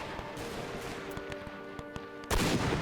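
Massed musket volleys in the Napoleonic-era strategy game Between Empires, with French line infantry firing on an enemy line, producing a rapid string of muffled shots over a steady battlefield din, then a louder burst near the end.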